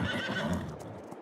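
Horses in the Farming Simulator video game give a loud, close whinny with steady clip-clopping hooves running through the whole short stretch, no talking.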